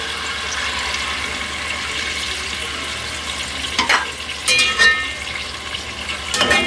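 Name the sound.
frying chicken with yogurt in pot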